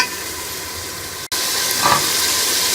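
Chickpeas frying in spice masala give a steady loud sizzling hiss, briefly cut off once, then carrying on at the same level.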